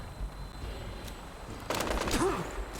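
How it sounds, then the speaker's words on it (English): Rapid bursts of gunfire in a Fallout 4 firefight ring out over a low ambient rumble, starting abruptly partway through and continuing as a dense rattling volley, moderately loud. "I'm getting shot at from somewhere."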